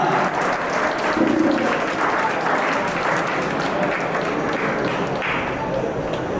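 Loud audience applause at a Karnataka state award ceremony honouring trustees and guests, a sustained, even roar of many clapping hands from a large crowd throughout, with a few sharper taps and a faint murmur of voices underneath.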